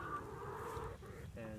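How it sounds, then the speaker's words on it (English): Chickens in a farm pen give soft, close clucks over a low murmur of outdoor background noise. "So this is where the chickens are now"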